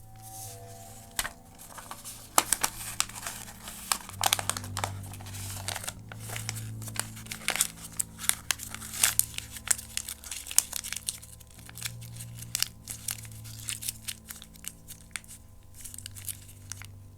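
Paper talisman sheets with writing on them being folded by hand, crisp crinkles and sharp creases spread unevenly over many seconds, close to the microphone, with soft low hum beneath and no talking.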